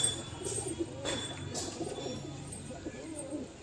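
Pigeons coo softly inside a loft, low murmuring calls under a faint background with a few brief sharp knocks, moderately near and quiet.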